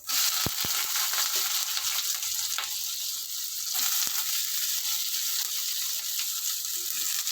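Onions sizzle and crackle steadily in hot oil in a frying pan while a Telugu drumstick curry is cooked, a constant close frying hiss with a few sharp taps of a utensil, no talk.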